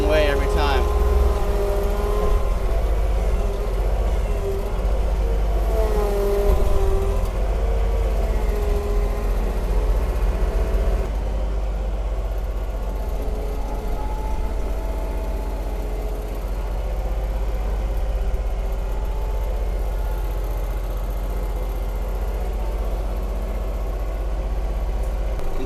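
A John Deere 2210 tractor engine revs hard while stuck in mud outdoors after dark, a loud, continuous droning rumble with a rising tone early on and muffled voices underneath.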